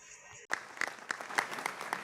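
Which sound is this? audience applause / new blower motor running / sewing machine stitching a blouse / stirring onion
audience applause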